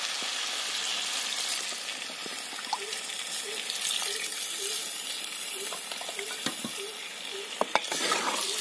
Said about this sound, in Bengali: এবার এতে দিয়ে দিচ্ছি আমি জল।